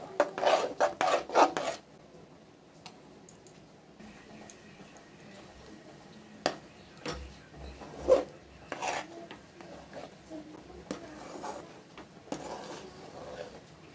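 A spoon stirs and scrapes a grainy kalakand milk mixture, curdled with lemon juice, in a pan over the stove, with brief rasping, rubbing and scraping strokes, loudest in the opening seconds and then lighter and intermittent.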